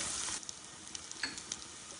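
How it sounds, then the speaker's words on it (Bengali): Garlic paste drops into a pan of frying onions and sets off loud, close, continuous sizzling, with a few light stirring ticks over the hiss. "পেঁয়াজ ভাজা হয়ে গেছে, এখন এটার মধ্যে একটু রসুন বাটা দিয়ে দিব।"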